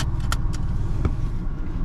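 A car driving in road traffic in Batangas, Philippines: a steady low engine and road rumble, with a few faint clicks and brief rattles on top.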